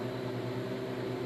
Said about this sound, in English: This sound with just the harvest right freeze dryer,